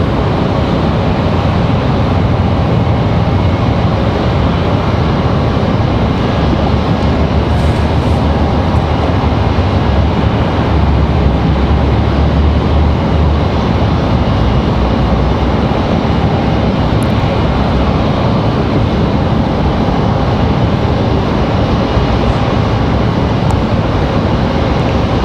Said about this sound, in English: Copa back taxi here, make their way back to the gate.